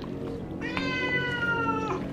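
A cat lets out one long, drawn-out meow, loud and near, rising over a low background murmur in a tense indoor scene.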